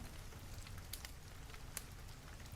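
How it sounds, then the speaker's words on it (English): Hard rain pours down in a dense, steady patter with occasional sharper drops, an even wash of sound with nothing else over it. "Listen to it rain."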